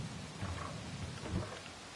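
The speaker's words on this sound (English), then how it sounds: "The rain is coming down hard now." Heavy rain with low thunder rumbles in the game RoadCraft, a faint continuous downpour hiss with a couple of soft, deep rolls underneath.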